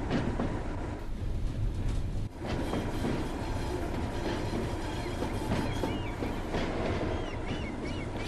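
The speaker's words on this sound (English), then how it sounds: "Yeah, this is a nice train." A Class 31 diesel locomotive in Train Sim World 2 runs steadily with a continuous engine drone and rolling wheel noise with clickety-clack, constant and fairly loud throughout.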